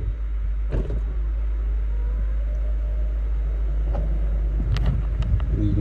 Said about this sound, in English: Then I can show you guys the convertible top in operation.